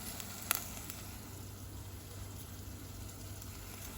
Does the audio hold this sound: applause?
no